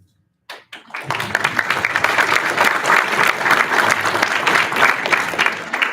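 A few scattered claps quickly swell into full, sustained audience applause at a school board meeting, many hands clapping loudly and evenly until the end.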